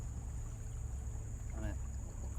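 A steady low motor drone hums beneath water sounds, with a brief faint voice partway through.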